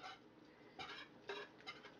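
Sausage being mixed into gravy in a pot: a few faint spoon scrapes and clinks against the pot in a quiet kitchen, with no talking.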